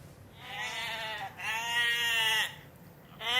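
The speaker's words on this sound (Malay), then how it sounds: "Ini adalah bunyi kambing." A goat bleats twice in long, wavering, nasal cries close by, with the start of a third bleat at the end over faint background noise.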